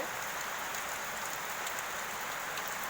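Rain falls steadily in a dense, even hiss that stays constant throughout, with faint scattered drop ticks and no voices.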